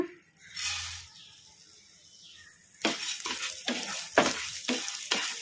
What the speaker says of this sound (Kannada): ಕಡಾಯಿಗೆ ನಾನು ಒಂದೆರಡು ಸ್ಪೂನಷ್ಟು ಧನಿಯಾ ತೊಗೊಂಡಿದ್ದೀನಿ ಈಗ ಇವನ್ನ ಕಡಾಯಿಗೆ ಹಾಕಿ ಫ್ರೈ ಮಾಡ್ಕೊಂಬಿಡೋಣ